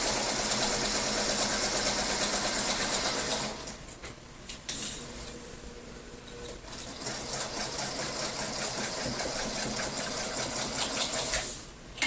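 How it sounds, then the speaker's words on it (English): A vintage Singer Featherweight sewing machine stitches paper-pieced fabric with a loud, steady, rapid whirring hum. The motor stops briefly partway through, then resumes running until it cuts out at the end. "I'm sewing on my beautiful little vintage featherweight"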